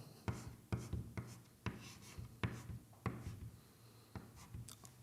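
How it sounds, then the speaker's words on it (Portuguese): Pen or pencil writing music notes by hand on paper, close and faint, with short rhythmic scratching strokes in bursts and brief pauses between them. "Vou escrever Mi, Fá na vertical."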